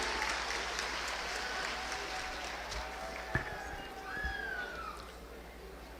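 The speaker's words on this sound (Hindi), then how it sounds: "जोरदार तालियां उनके लिए होनी चाहिए" Crowd applause at an outdoor foundation-stone ceremony for a national highway project in Rohtas, Bihar; a dense, steady wash of clapping throughout, with a brief voice and whistle-like tones rising faintly over it.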